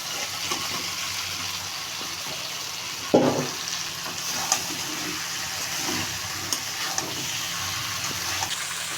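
Fish goes into a hot pan with black pepper and cumin powder, giving a steady faint sizzle with a brief louder splash and burst of frying partway through.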